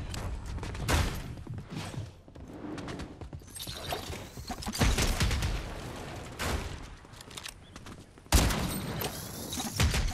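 Grenades explode in a Fortnite match, a string of sharp bangs and booming blasts peppered across the scene, with one especially loud burst near the end amid gunfire-like cracks.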